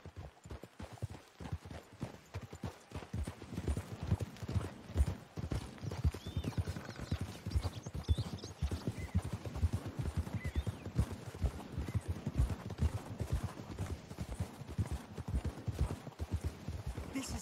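Horse hooves clip-clop steadily in the Western video game Red Dead Redemption, with a brisk, continuous rhythmic gait that runs throughout at moderate loudness over a faint ambient background.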